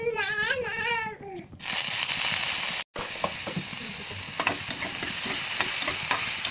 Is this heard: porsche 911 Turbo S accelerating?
no